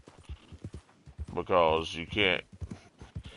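A starter horse in the video game Red Dead Redemption 2 Online plods along with a steady, evenly spaced clip-clop of hooves, close and distinct, while someone talks over the middle of it.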